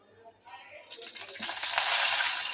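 Onion drops into hot oil in a pan and begins frying, the sizzle swelling from quiet to a steady hiss over a couple of seconds.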